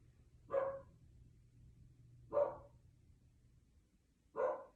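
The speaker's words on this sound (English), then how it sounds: "Trying to ignore the dog that is barking out there." A dog barks outdoors at a distance, three single barks spaced about two seconds apart over a low steady background hum.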